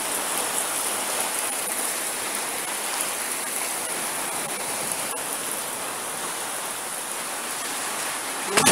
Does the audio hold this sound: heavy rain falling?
yes